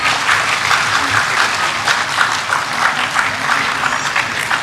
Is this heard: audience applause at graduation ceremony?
yes